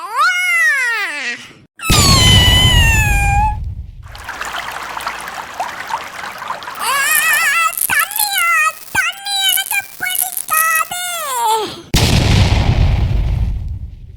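A cartoon cat yowls and meows in distress while being attacked, loud drawn-out cries alternating with harsh noisy bursts and crashes, with sharp whooshes and repeated shrieking calls throughout.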